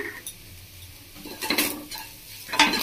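A spatula scrapes and clatters through scrambled egg dusted with black pepper in a pan over soft frying hiss, in a few short bursts of metal-on-pan stirring separated by quieter pauses.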